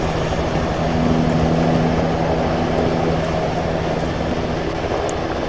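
A military helicopter in the combat game Arma 3 roars steadily and loudly with a dense rotor and engine drone, constant throughout without talk.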